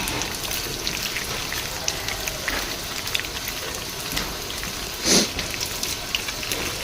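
Water running steadily while water apple fruit is washed, a continuous close splashing patter with one brief louder splash partway through, no talk.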